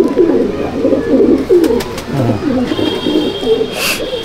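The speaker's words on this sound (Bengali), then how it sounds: "দেখুন বন্ধুরা, একটা অসাধারণ কালদমা দেখাচ্ছি, অনেক পুরনো পায়রা, ঐতিহ্যপূর্ণ পায়রা।" Old-lineage Kalduma Madrasi pigeons coo close by in Liluah, Howrah, giving repeated low rolling coos in a steady stream with a brief higher chirp near the end, with no talking.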